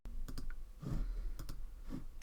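Several sharp computer mouse clicks come in quick pairs and singles at the desk while working in Cricut Design Space, close and crisp over a low background hum, with no talking.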